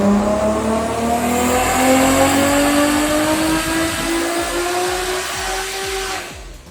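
Stock Nissan 240SX RB25DET NEO engine revving hard on a dyno at 14–18 psi boost, a loud sustained wail rising steadily in pitch for about six seconds before cutting off, with no talking.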